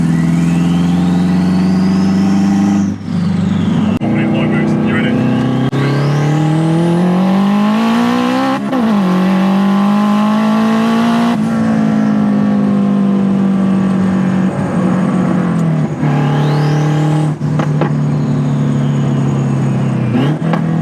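A 532bhp turbocharged Honda Civic revs repeatedly, with a rising turbo spool whistle climbing over each pull and dropping off between them, loud and close, no talking.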